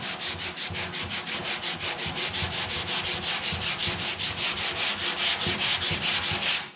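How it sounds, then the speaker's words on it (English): Steady, rhythmic back-and-forth sanding of body filler, each stroke a raspy scrape, close and continuous with no talking. "We're sanding body filler off instead of putting it on, right?"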